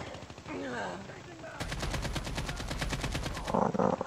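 Hip-fired automatic gunfire, likely an AK-47, in the mobile shooter CoD Mobile: after a stretch of speech, a fast burst of shots rattles out loud and steady for a couple of seconds, with a voice returning at the end.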